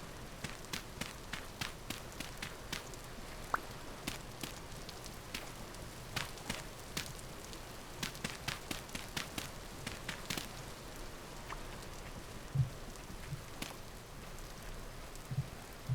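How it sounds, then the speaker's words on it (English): Steady rain falling in the video game Vintage Story, a continuous soft patter with scattered sharper drip ticks throughout, fairly faint and uninterrupted with no talk. "First time since I started this game it's raining."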